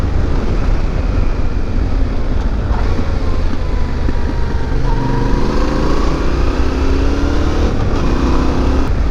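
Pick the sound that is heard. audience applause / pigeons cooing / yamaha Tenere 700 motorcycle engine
yamaha Tenere 700 motorcycle engine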